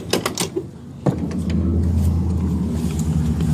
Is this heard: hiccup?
no